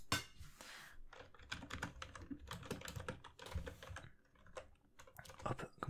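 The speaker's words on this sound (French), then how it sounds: "Je vais mettre dans les tags bruit de clavier." Fingers type on a computer keyboard in a quiet room, a close, soft, irregular patter of key clicks with brief pauses, delicate and intimate, without any speech.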